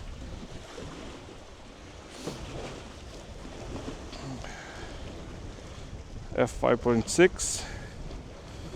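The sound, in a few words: wind blowing by the ocean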